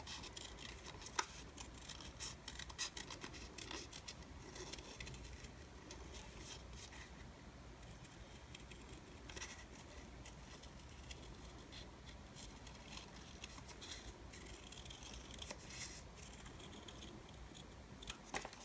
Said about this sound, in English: And just cut around the ornament.